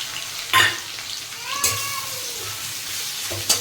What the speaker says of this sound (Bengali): এই যে আগে রসুনটা দিয়ে দেব, এর মধ্যে পেঁয়াজটা ছেড়ে দেবো